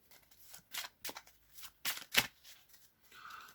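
A deck of playing cards is shuffled up close in several quick riffling bursts, crisp flutters separated by short gaps, the last one trailing off softer.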